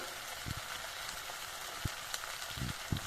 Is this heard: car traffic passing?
no